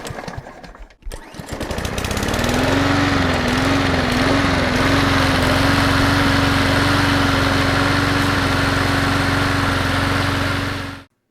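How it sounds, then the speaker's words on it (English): A Toro Recycler lawn mower engine catches after a brief start-up clatter, then runs loud, close and steady with a constant droning hum for the rest of the clip. "This mower actually starts up and runs perfectly fine."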